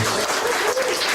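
A church congregation claps together in a dense, steady burst of applause that fills the room from start to finish, with no voices rising above it.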